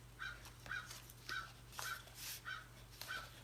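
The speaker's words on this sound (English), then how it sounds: "That crow is trying to steal my video here." A crow caws repeatedly in a steady rhythm of harsh, evenly spaced calls, moderately close, over a low constant hum with no speech.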